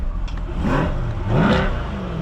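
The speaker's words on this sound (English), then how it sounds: "That performance exhaust sounds fantastic." A 2023 Chevrolet Corvette Stingray 3LT with Z51 performance exhaust revs twice in quick succession, each rise swelling loud and close before falling back to a steady idle rumble.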